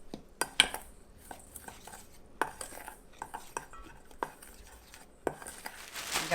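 A spoon working Cholula-spiced seasoning for chicken wings around a bowl, with sharp clinks and scrapes at an irregular pace over a quiet background.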